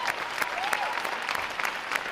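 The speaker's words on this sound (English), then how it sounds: "I'd like to give our staff a round of applause" Audience applause at a U.S. Navy boot camp graduation ceremony at Great Lakes, a steady wash of many hands clapping with crisp individual claps standing out, moderately loud and continuous throughout.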